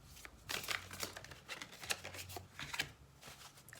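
Oracle cards being shuffled and drawn for an April 2024 reading, soft close riffling and papery slides in uneven bursts, fairly quiet and with no voice over them.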